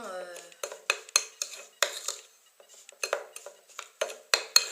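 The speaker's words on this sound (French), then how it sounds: "Je commence déjà à remuer pour voir ce que ça va donner." Homemade body scrub with olive oil stirred in a bowl, sharp rhythmic spoon clinks and scrapes against the dish, about a dozen close strokes separated by short quiet gaps.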